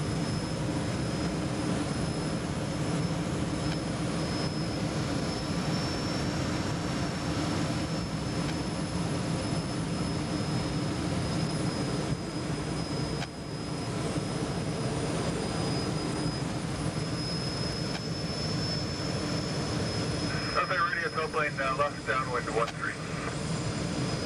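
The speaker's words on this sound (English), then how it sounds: "See the tow plane down there?" The engine of a tow plane pulling a glider drones steadily from nearby in flight, a continuous loud hum with a high whine that holds for the whole stretch.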